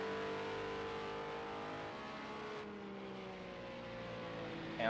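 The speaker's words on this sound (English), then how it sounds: "Sounds like the Ginetta Mickliffe." Ginetta race car engine in an iRacing sim race, a high revving whine rising and falling through gear changes, steady and moderately loud with no voices.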